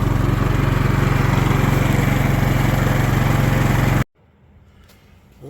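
Predator 11500 generator running loud and steady with a constant engine drone, then cutting off abruptly as it is shut down, leaving a quiet room tone afterward.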